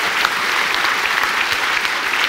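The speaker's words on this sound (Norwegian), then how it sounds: "jeg ber folk applaudere for Norges riksadvokat" Audience applauding a Norway public prosecutor at a talk event, a steady dense wash of many hands clapping that fills the whole stretch at an even, fairly loud level with no voices over it.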